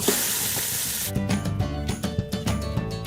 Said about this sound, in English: So this is a chuck roast that we've cut up into pieces, and we're going to just brown it on both sides, just quickly.